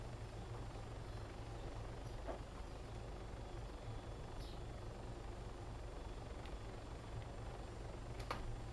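Steady low rotor drone of a helicopter coming in to land in ARMA 3, flown with HOTAS controls, a constant faint hum with occasional light clicks and no speech.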